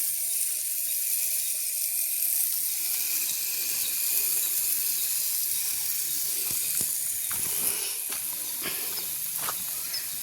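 Irrigation water gushes from a pipe in a loud, steady hissing rush on a coconut farm, with a few splashes and knocks toward the end.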